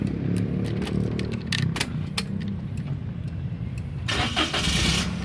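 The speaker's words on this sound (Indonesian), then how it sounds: "Oke, sekarang kita coba nyalakan mobil." A 2014 Toyota Agya 1.0 G automatic car engine cranks over with repeated starter clicks, then catches and settles into a steady idle, with rising revs near the end, close and loud.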